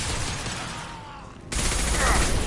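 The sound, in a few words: concussive shots gunfire in Mass Effect 2 video game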